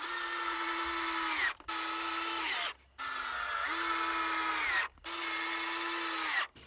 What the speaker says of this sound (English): drop a couple of screws into it